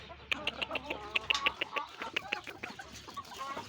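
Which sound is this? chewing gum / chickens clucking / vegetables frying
chickens clucking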